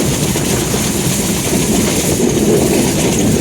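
Steady, loud rumble and rattle of a train in motion on the Dinajpur to Dhaka line, heard continuously from on board with faint clickety-clack over a dense low roar.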